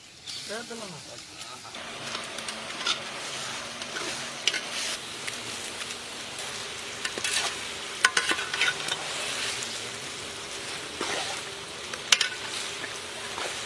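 Five kilograms of chicken go into a sizzling tomato masala for curry leaf chicken curry, with steady frying hiss and intermittent scraping stirs while people talk nearby.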